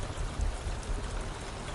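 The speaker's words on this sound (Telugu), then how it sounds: "బయట ఫుల్‌గా వర్షం." Heavy rain falling outside makes a steady, soft broadband hiss that stays even throughout, with no voices.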